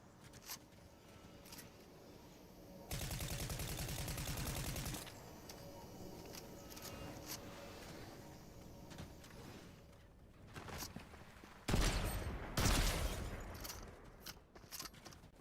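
Outlaw Shotgun firing in the video game Fortnite: faint, sporadic blasts and mechanical clicks across a quiet stretch, with two louder dense bursts of action, one early and one near the end.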